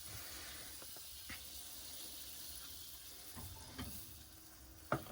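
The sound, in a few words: blueberry pancakes frying in a pan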